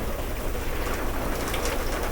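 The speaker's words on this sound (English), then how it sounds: "Also, sorry about the rain." Steady rain pours down as a dense, continuous hiss, loud and close, with no other sounds standing out.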